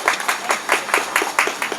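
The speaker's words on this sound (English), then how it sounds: "Give it a applause." Audience applause at a Royal Society of St. George honorary membership ceremony in California, a short burst of clapping from a modest crowd in a regular pulsing rhythm, fairly close and moderately loud with no talk over it.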